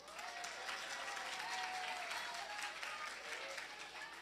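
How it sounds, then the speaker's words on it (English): An audience at a gathering gives a sustained round of applause, even and continuous, heard at a fairly low level from start to finish. "let's give a round of applause to Reb Mendel Gerlitsky"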